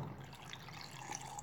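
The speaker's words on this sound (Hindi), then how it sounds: "अब इसमें हम ये जो हमने अंजीर में पानी डाला हुआ है ये पानी डाल लेंगे" Fig soaking water poured into a blender jar, giving a soft, steady trickle of liquid that carries on at low level and close by for the whole moment, with no voices.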